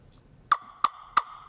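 Turkey call made from turkey wing bones, blown to imitate a wild turkey: three sharp, high yelps evenly spaced and close up, loud against near silence.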